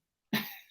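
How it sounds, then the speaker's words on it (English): A single short cough with a rough, throaty burst, close and fairly quiet, following silence and trailing off quickly. "Sorry if you heard me coughing earlier on the intro."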